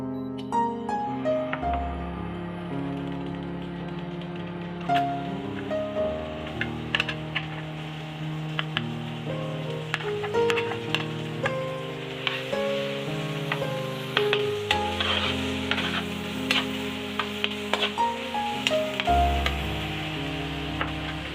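Pineapple, tomato and chopped onion cook in a pan for sweet and sour pork, a soft sizzle under frequent tapping and clicking of a spatula or spoon against the pan, fairly quiet and steady.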